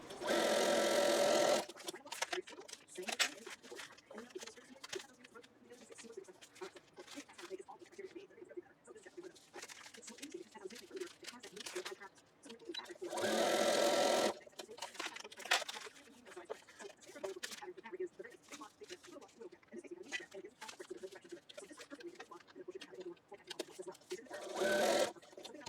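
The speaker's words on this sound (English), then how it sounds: "I'll go all the way to one end and then all the way to the other" A sewing machine stitches fabric strips for a strip-pieced quilt block, running in long steady bursts with brief pauses between seams, close and fairly quiet.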